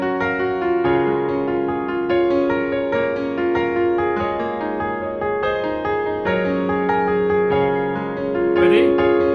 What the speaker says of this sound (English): when you move quickly to other chords within the chord progression, but switch back